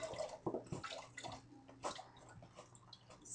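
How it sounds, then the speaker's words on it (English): Chicken broth poured into a soup pot for Italian wedding soup: an uneven liquid splashing and gurgling with irregular bursts, close and fairly quiet, with no voices. "Still just adding chicken broth."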